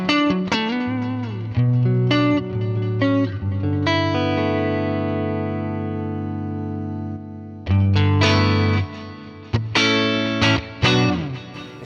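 Clean electric guitar through a Fractal Axe-Fx modelling a Fender Princeton amp, with the drive turned off, playing sustained chords and picked notes that ring out and decay, loud and alone.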